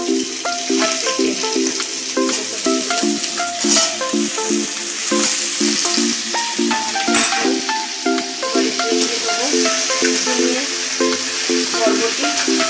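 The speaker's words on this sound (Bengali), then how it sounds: "এই তেলেতেই দিয়ে দিলাম পটল, আলু আর পেঁপে।" Pointed gourd, potato and papaya cut into pieces sizzle steadily in hot oil in a pan, a continuous crackling fry with light stirring, heard close up over a bed of background music.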